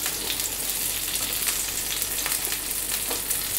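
Paneer and capsicum frying on a tawa: steady, close oily sizzling with soft crackles and occasional stirring scrapes, continuous and unbroken, with no talking.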